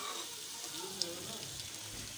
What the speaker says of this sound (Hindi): चिकन को फ्राई करेंगे और साथ सारे मसाले डाल देंगे।